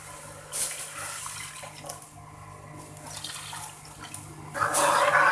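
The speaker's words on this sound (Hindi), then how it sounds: "देन हम इसमें ऐड करेंगे दूध" Milk poured into boiling jaggery tea on the stove makes a gushing liquid splash that swells loudest near the end, over a low steady simmer and hum.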